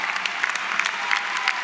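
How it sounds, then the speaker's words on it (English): Steady applause from a commencement audience for graduating ROTC cadets, a dense even patter of many hands clapping at moderate distance with no talk over it. "please stand while you applaud for them"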